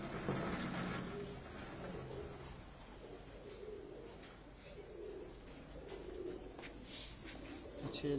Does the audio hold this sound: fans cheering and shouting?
no